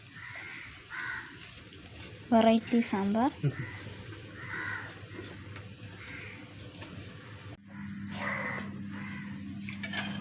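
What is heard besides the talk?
crows cawing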